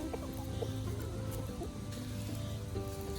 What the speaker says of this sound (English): Oh, that's two hens fighting at it.